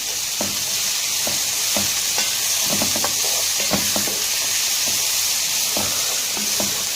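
Cubed, washed potatoes with coarsely cut onion and hot chili peppers sauté in a pan with no added fat. A steady sizzle runs throughout, broken by irregular scraping taps of a spoon stirring.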